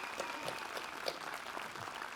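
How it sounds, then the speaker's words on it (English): Outdoor crowd at a lakeside community band concert claps steadily, a soft, distant wash of many hands with occasional sharper claps, no talk over it. "maybe another round of applause for our community band"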